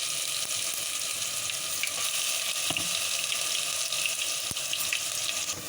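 Onions and ginger-garlic paste frying in oil for a chicken gravy curry, a continuous hissing sizzle with a few faint clicks of a ladle, close up with no voices.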